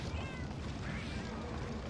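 Palico cat companions meow in Monster Hunter Generations during a hunt, with steady repeated mewing calls over dense game music and combat noise for about two seconds.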